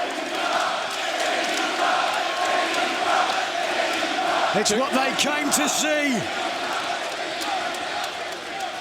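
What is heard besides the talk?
wrestling crowd stomping and clapping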